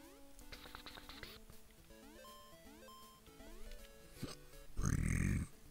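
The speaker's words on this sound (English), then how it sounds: "Sorry I keep burping." A man's loud burp near the end, harsh and close, following a stretch of chiptune music from the Game Boy game Super Mario Land playing throughout.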